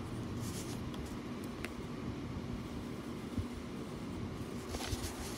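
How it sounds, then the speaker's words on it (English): A pen steadily drawing a border line around a Zentangle paper tile, a soft continuous scratching close up with no talking. "And then I'm going to draw in my border."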